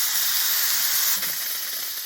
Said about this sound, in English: Just blast it with steam, rotate it.